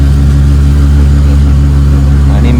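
Auto rickshaw engine driving through heavy rain on the way to Shankaracharya Temple in Kashmir, a loud, close, continuous droning hum with steady low throb for a couple of seconds.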